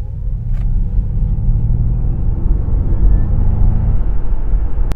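A Ford Mustang Mach-E electric car accelerates. A steady low road rumble and tire roar fill the cabin, with a faint rising motor whine and no talking.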